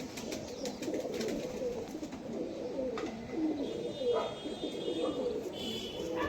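Several pigeons coo in a steady, overlapping murmur close by, with faint chirps above and no talk, kept by a pigeon fancier in Krishnanagar.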